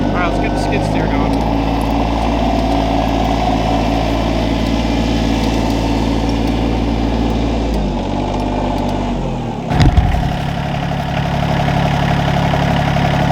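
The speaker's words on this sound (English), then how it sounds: "let's get the skid steer going" A skid steer engine runs steadily near and loud, idling with a heavy low rumble, then gives a sharp clunk and settles into a slightly altered idle toward the end.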